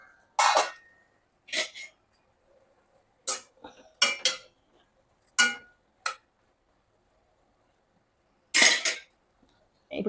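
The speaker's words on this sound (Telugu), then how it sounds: "కూర ఒకసారి కలిపేద్దామండి." A spoon stirring ridge gourd curry in a metal cooking pot, sharp scraping and clinking strokes in an irregular rhythm, close and clear with quiet pauses between.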